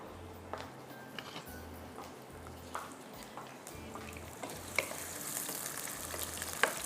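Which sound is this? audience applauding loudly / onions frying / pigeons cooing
onions frying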